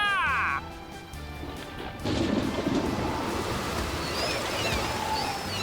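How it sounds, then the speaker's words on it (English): Thunderstorm in the Fate/Hollow Ataraxia game: a loud crash of thunder breaks in after a brief tonal chime, followed by steady rushing rain and wind that holds on to the end. "A flash of lightning among the fierce winds and the raging blue waves"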